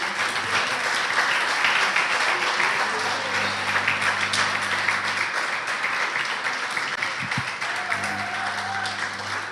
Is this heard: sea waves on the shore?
no